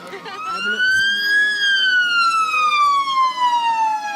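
Emergency vehicle siren sounding at a 2016 Cullman County Christmas parade, one loud, close wail sweeping up and then slowly falling, with steady pitch harmonics and no other sound breaking through.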